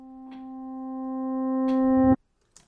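A reversed piano note in a sampler swells steadily louder from nothing into a bright sustained tone, then cuts off abruptly with a thump, followed by near silence.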